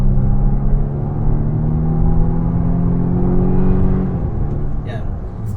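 A Volvo XC90 accelerating on a highway, heard from inside the cabin as a steady, loud engine drone and road rumble that builds and then eases off near the end.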